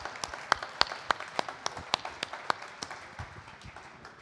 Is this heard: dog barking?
no